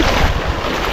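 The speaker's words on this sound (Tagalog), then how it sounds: "Lakas kasi ng alon yun eh." Rough water sloshing and wind buffeting, a steady broadband rush with low thumps, like waves against a boat at sea.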